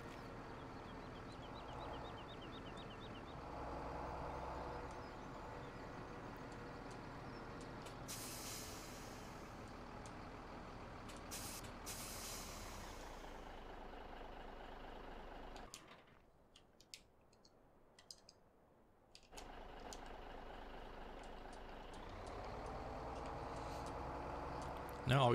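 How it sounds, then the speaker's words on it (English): A truck rumbles steadily as it is moved back into line in Farming Simulator 17 on a logging operation, with a couple of sharp hissing air-brake bursts midway and a brief quiet gap near the end. "So I'm gonna go put this truck back in line."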